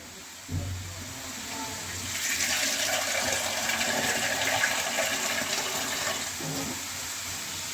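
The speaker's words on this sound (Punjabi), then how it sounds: "ਐਸੇ ਪਾਣੀ ਪਾ ਲਿਆ ਕਿਉਂਕਿ ਅਸੀਂ ਇਹਦੀ ਤਰੀ ਬਣਾਵਾਂਗੇ" Water pours steadily into a pot while an aloo vadi curry is being made, a rushing, splashing stream that starts abruptly and runs close and fairly loud for about six seconds before easing off.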